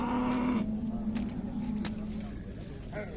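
Cattle at the Sokuluk livestock market, including the Belgian Blue breed, with one long, fairly close moo followed by quieter market background noise.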